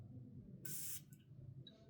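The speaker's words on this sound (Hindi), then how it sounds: "जबरदस्त स्प्रे है इसका, ये आप इसका स्प्रे देखिएगा जरा" A single short, pressure-controlled burst from an Ibrahim Al Qureshi Black Carbon Diamond perfume atomizer hisses close and crisp for about a third of a second, followed by a faint trailing puff over a low room hum.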